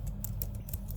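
Typing code on a computer keyboard, a steady run of quick, close keystrokes over a low background hum, with no talking.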